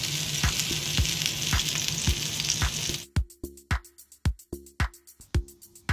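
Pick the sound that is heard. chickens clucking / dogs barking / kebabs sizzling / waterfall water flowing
kebabs sizzling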